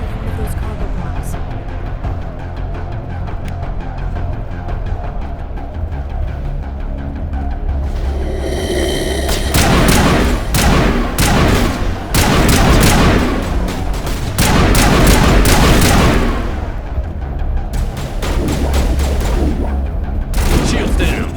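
Grenade blasts and rapid gunfire from the video game Mass Effect rage almost nonstop, dense, loud and close, with booming explosions that swell midway and near the end.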